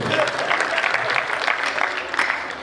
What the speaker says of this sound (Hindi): ताली बजाओ अगर समझ रहे हो।